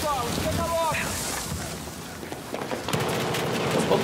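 Gunfire in a Battlefield 4 team deathmatch on a Hainan map, with scattered shots and bursts heard amid wind and engine-like rumble, plus brief game voice sounds.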